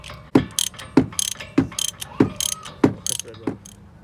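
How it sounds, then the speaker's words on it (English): A ratchet turns a T30 Torx bit on the bolts of a car's electronic brake control module, making about six evenly spaced clicking strokes, each followed by a short rattle of the pawl, close and crisp. "the T30 Torx bit to remove the control module for the electronic brake system"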